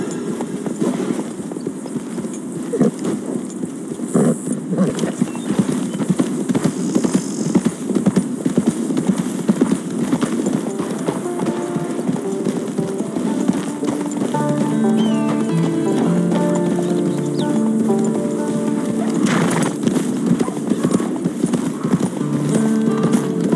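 Roach the horse's hooves clip-clop steadily on the ground in a video game, a continuous rhythmic walking gait heard up close with faint ambient sounds behind.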